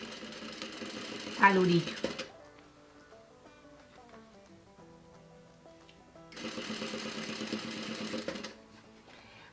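A sewing machine stitches boning into a corset bodice in two rapid mechanical runs, a brief one near the start and a longer one later, close and fairly loud, with someone speaking quietly in the pause between.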